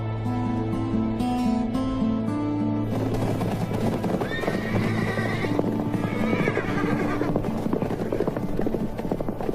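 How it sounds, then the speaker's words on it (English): Horses neigh and whinny loudly in a desert, with shuffling hoof sounds and a steady low rumble underneath; repeated calls ring out across the whole stretch. "they leave the horses in the shade."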